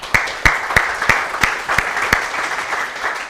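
Audience clapping at the Coimbra Blockchain conference, heard as a sparse run of evenly spaced, sharp claps about three per second, fairly close and steady over a soft background hiss.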